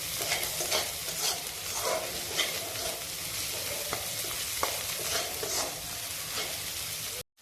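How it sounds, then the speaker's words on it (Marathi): Seven or eight crushed garlic cloves sauté with onion in hot oil, a steady dense sizzle with light scraping stirs throughout, close and continuous before stopping abruptly. "त्यामध्ये 7 ते 8 ठेचलेले लसूण पाकळ्या टाकणार आहे। हे आपण चांगले परतवून घेते।"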